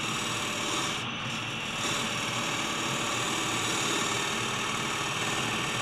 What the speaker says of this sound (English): steady, slicing finishing cut with the flute almost closed.